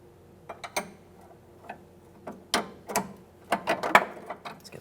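A 17mm wrench tightening a front sway bar link nut on a 2010-2013 Kia Forte Koup, heard as a series of close, irregular metallic ratcheting clicks and taps with short pauses in between.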